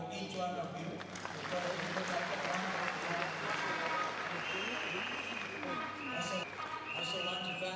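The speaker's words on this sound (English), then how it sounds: "I think we need to clap for each one of you." Sustained applause from a large audience at a Wiper party NDC political gathering in Kenya, a dense even clatter of clapping that holds steady throughout with crowd noise mixed in.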